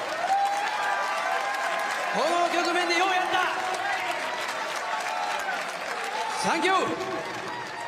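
Crowd applause for boxer Casimero at a boxing event, a steady dense roar of clapping and cheering that runs throughout, with an announcer speaking over it.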